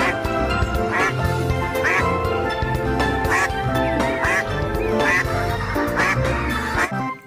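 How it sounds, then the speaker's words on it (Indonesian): Repeated duck quacks sound close and loud over a busy, cluttered background, coming in short, nasal bursts about once a second. "di sini ada hewan bebek"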